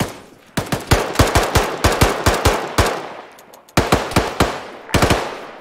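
Automatic gunfire in Arma 3 during a firefight at a military base: loud bursts of rapid shots, several volleys separated by short pauses, close and sharp with no talking over them.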